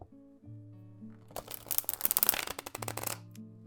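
Rapid riffle of a card deck being shuffled up close, a quick burst of crisp flapping clicks over a soft background tone.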